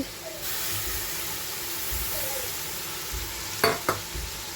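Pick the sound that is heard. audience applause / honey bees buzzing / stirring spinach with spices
stirring spinach with spices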